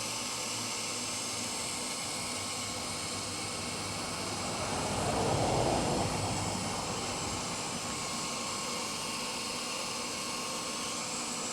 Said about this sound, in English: Can you hear the pump running?